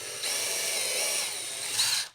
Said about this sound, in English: we continue with the pre-drilling right here